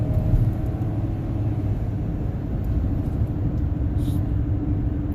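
A 2011 Chevy Silverado 2500HD with the 6.0 engine and a faulty 6L90-E transmission accelerating hard, heard from inside as a steady, loud low engine drone and road rumble that holds throughout without letting up.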